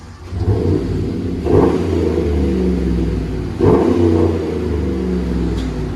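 A Chevy Silverado pickup with a 5.3L V8 and Flowmaster exhaust, parked in the snow, gives two loud rev bursts over a steady deep idle rumble, heard close up.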